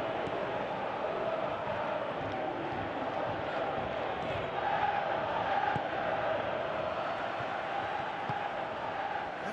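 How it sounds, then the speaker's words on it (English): A large stadium crowd in the football video game PES 2018, during a Champions League match, roars and murmurs continuously in the background, swelling slightly midway, with a commentator's voice faintly underneath. "you can hear how the crowd are reacting to this, too"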